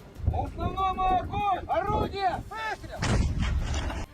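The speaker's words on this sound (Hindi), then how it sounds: "जिसमें रूसी सैनिक यूक्रेन की सेना पर तोप से गोले दागते नजर आए" Russian artillery cannons fire shells in the Russia-Ukraine war, with several loud booming blasts in quick succession and a final heavy blast, mixed with wind noise and distorted voices.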